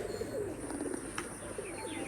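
Pigeons cooing and calling outdoors, a steady low murmur of coos with a few brief chirps over a continuous background, moderately close and fairly soft.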